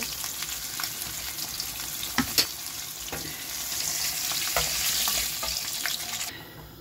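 Fish pieces frying in hot oil, a loud, dense crackling sizzle that swells and holds steady, with a couple of sharp utensil knocks nearby and no voices.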